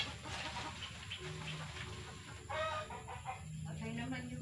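A hen clucks as it hunts for a nesting spot to lay eggs, with Filipino voices speaking nearby and a nest being made from coconut leaf; the clucks come in short, repeated bursts under steady outdoor background noise.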